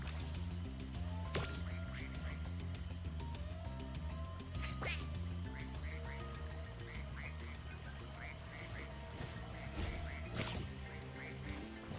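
Repeated quacks from a duck in the Spyro video game, short nasal calls recurring over game music and sound effects, fairly faint.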